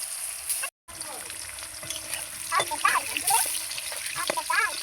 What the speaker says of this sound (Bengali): বিরিয়ানি আলুটা আমরা আবার ভেজে নিচ্ছি।